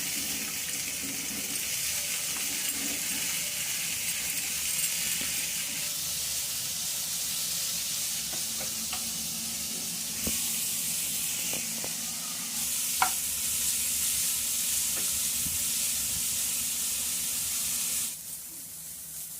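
Close, continuous sizzling of frying in hot oil, a steady bright hiss with occasional small pops and clinks.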